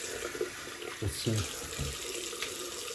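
A tap runs steadily for a cold water rinse during a wet shave with a Ming Shi 2000s DE razor and Arko soap, a close broadband rush of water with splashes as hands move under the flow.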